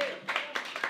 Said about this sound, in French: Hey, on l'applaudit quand même.